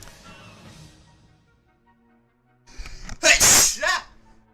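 A single loud, close sneeze with a sharp inhale build-up and burst, following a quieter stretch with faint earlier sounds.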